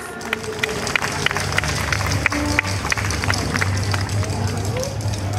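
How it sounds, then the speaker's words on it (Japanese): Audience applause at a Kobe yosakoi dance event, a steady dense wash of many hands clapping with scattered sharper claps over low crowd murmur and a hum. "もう一度大きな拍手をお願いいたします。"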